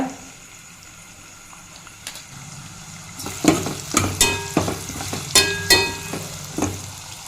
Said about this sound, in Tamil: இப்போ பொடியாக நறுக்கின வெங்காயம் ஒரு 50 கிராம் சேர்த்துக்கலாங்க